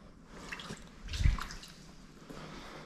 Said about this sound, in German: Na klar, das Wasser geht durch alle Etagen durch.